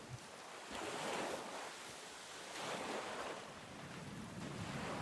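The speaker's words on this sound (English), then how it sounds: "The water is so loud" Water rushing loudly in the hunting game theHunter: Call of the Wild, a broad steady roar of surf-like flow swelling and easing in slow waves, with no talking.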